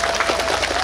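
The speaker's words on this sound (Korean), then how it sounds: "박수 좀 쳐주세요." Brief burst of audience applause at an outdoor traditional market festival stage event in Yecheon, a dense wash of clapping at steady level with no talk.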